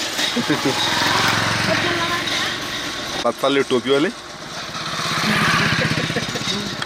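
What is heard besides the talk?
motorcycle passing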